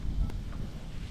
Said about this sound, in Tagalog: Wala nang ulan pero malamig at saka mahangin.